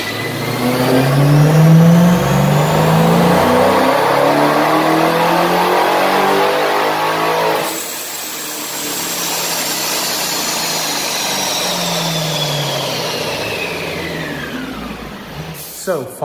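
A Vortech supercharged Hemi car engine revs hard on a chassis dyno, rising loud and close, dropping back, then climbing again with a high supercharger whine, while people talk underneath.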